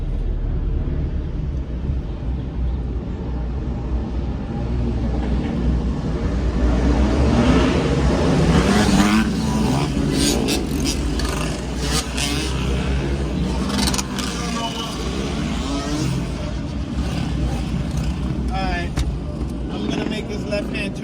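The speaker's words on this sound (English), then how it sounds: "it's a huge pack of bikes, ladies and gentlemen. A huge pack of bikes. They all wheeling." A large pack of motorbikes popping wheelies on a busy Philadelphia street rumbles and revs from a middle distance, with engine noise rising and falling throughout and someone talking over it.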